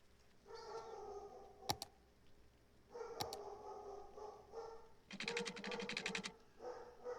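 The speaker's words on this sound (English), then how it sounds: "Sorry about the barking," A dog barks and yelps in repeated bursts, somewhat muffled as if from another room, with pauses between outbursts.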